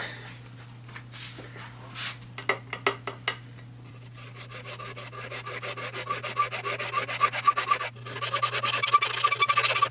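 A metal file rasps against material in repeated strokes, a few slow scrapes at first, then a fast steady run of short grating strokes, close up.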